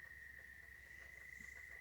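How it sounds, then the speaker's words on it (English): Crickets chirp in a steady, high, continuous trill, faint and uninterrupted throughout, with a low background hum beneath. "You can probably hear the crickets chirping."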